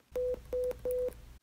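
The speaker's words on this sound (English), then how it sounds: "Low pitches, or deep sounds like this" Three steady low-pitched hearing test tones from an audiogram explanation, each about a fifth of a second long, evenly spaced and fairly loud with brief gaps of quiet between them.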